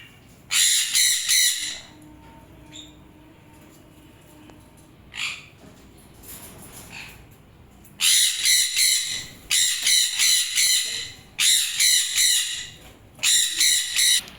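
Pet sun conures and lovebirds give loud, harsh squawks in repeated clustered bursts, separated by quieter stretches with only faint chirps, close and piercing.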